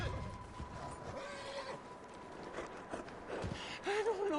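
A horse in Red Dead Redemption 2 whinnies near the end, a shrill rising-and-falling neigh, after faint hoof and tack noises and low game ambience.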